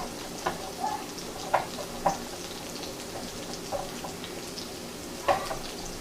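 Steak and onion fry in a pan with a steady faint sizzle, broken by a few soft crackles and pops.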